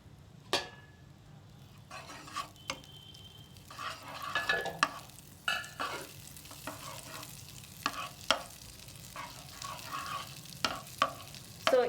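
Ghee melting in a pan for meal maker biryani, a low steady sizzle with scattered scraping stirs and light clinks of a utensil against the pan, close and alone with no talk.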